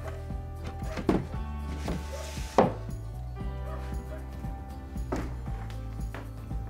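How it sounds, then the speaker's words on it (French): A dog barks a few separate times, at about one, two and a half and five seconds, over a steady low electrical hum in an indoor room. "On attend Bobby qui aboie."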